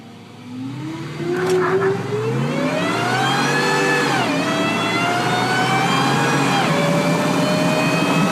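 Supercharged 6.2-litre V8 in a Ford Raptor pickup revving hard, pitch climbing steadily through the gears with brief dips at shifts, loud and close, with no talking.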